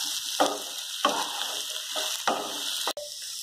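Diced potatoes with salt and dried mango powder being mixed in a hot pan for aloo jeera, with about five distinct scraping strokes over a steady frying sizzle, no voices.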